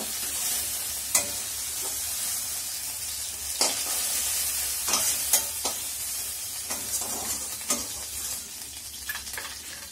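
Baan fish frying in hot oil, a bright, steady sizzle held throughout with scattered sharp pops and spatula knocks, close and fairly loud, with no voices.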